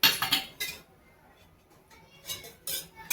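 A kadhai being set down on a gas stove for cooking, giving a few sharp metallic clinks and clatters close by, with quiet pauses between the bursts.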